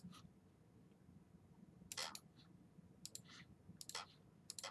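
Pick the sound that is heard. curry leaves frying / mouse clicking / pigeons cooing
mouse clicking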